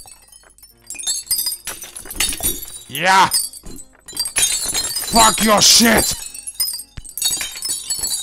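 Whisky glasses smash and clink repeatedly in the video game I am Bread, with several bursts of shattering glass and tinkling shards under a man's loud, excited commentary.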